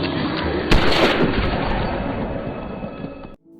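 A sharp, loud gunshot-like blast cracks out, followed by a long rumbling roar that slowly fades before cutting off.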